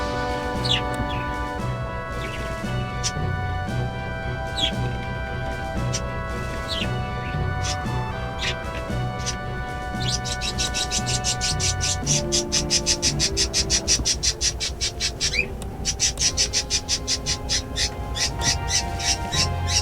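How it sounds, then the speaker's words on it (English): Pet birds chirp and tweet indoors in a lit room, repeated bright calls running throughout over steady game music and background sound, fairly close and moderately loud. "those freaking birds"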